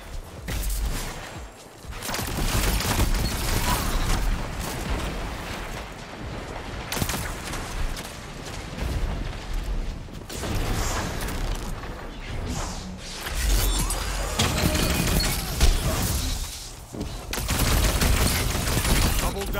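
A grenade blast in a multiplayer shooter, loud amid dense continuous gunfire, whooshes and mechanical game effects that run throughout.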